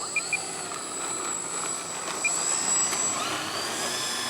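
A Dynam BF-110 1500mm RC model warbird with non-counter-rotating props takes off on its maiden flight, a steady buzzing motor whine held throughout at moderate loudness with faint high tones on top.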